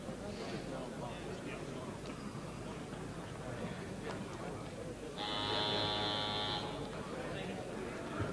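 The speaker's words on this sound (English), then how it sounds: "10-second buzzer." An arena buzzer marks ten seconds left before a flyweight title boxing bout, a loud steady electric drone lasting about a second and a half, rising out of crowd noise and a commentator talking throughout.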